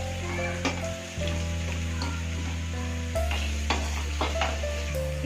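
Chopped onion frying in hot oil in a pan for mutton fry, a steady crackling sizzle with occasional stirring taps over a constant low hum, close and fairly loud, no voices.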